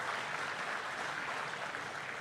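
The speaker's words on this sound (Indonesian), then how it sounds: "Kita berikan tepuk tangan buat beliau." Applause from an audience greeting President Prabowo Subianto at a mass housing-mortgage signing event in Serang, Banten: a steady, even wash of clapping held at a faint, distant level throughout, with no voices over it.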